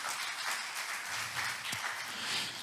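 A church congregation applauds steadily in a soft, distant wash of clapping.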